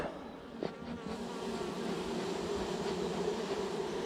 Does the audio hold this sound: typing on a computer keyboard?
no